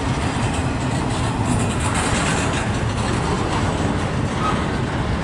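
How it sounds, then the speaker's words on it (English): A long freight train rolls steadily past at Fostoria, Ohio, a loud, continuous rumble with rhythmic wheel clatter and rail noise, close by and unbroken, with no voices. "This is a long train"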